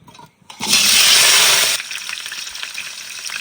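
Potatoes drop into hot mustard oil in a wok over a wood fire and set off a loud burst of close sizzling that settles after about a second into a quieter, crackling fry.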